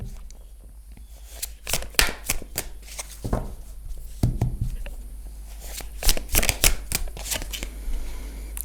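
Tarot cards are shuffled close by in a series of crisp riffling, slapping bursts with short gaps between them, loud and with no talking.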